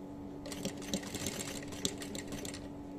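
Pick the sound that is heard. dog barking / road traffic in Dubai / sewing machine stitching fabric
sewing machine stitching fabric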